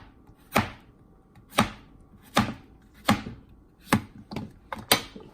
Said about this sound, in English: So I'm going to finish chopping up my 3 zucchini that I have.